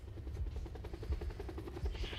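A helicopter flying close by in the Call of Duty Black Ops 4 Blackout video game, a low rhythmic rotor thumping at a steady pace, fairly faint and continuous throughout.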